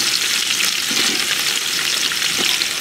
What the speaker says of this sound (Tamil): இப்போ வந்து கட் பண்ணி வச்சுருக்க வெங்காயம் தக்காளி பச்சை மிளகாலாம் போட்டுடலாம்.